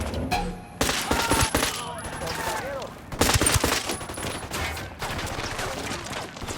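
Gunfire in the video game Ghost Recon Wildlands: loud bursts of automatic and single shots sound in clusters throughout, layered with game ambience and brief voices.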